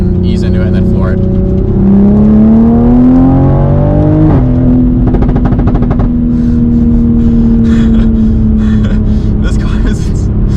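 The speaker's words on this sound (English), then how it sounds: "So let's go to try a third gear pull." A 500-horsepower Toyota Supra pulls hard in third gear, its engine note climbing steadily then dropping briefly at a shift-like break before droning on strongly, loud and close inside the cabin with voices murmuring over it.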